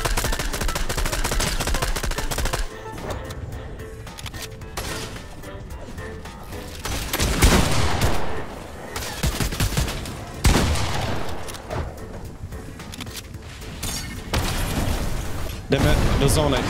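Rapid bursts of Fortnite gunfire crackle repeatedly, with short pauses between volleys and a steady layer of game noise and voices underneath.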